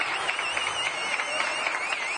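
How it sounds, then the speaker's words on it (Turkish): Quarantined students applauding from dormitory corridors in Kocaeli, a dense, continuous patter of many hands clapping at a distance, steady and without pauses. "Kocaeli'de öğrenci yurdunda karantinada kalanlar da koridorlarda alkış tuttu"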